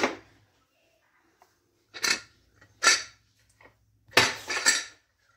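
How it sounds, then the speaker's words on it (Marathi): A pressure cooker's lid is taken off after cooling from cooking carrots for gajar halwa, giving a few close metallic clanks and scrapes separated by quiet gaps, with a louder double clatter near the end. "आता मी झाकण काढून घेते"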